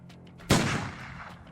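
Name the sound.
gunshots in zombie turn-based strategy video game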